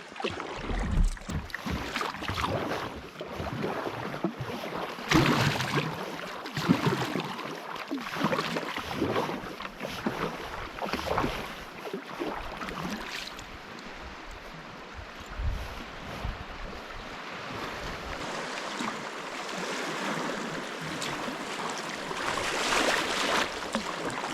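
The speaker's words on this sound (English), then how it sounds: "Almost a little rapid over here." On a canoe trip down the Yukon River, water rushes over a small rapid in a steady wash beside the boat, with paddle splashes and wind buffeting the microphone.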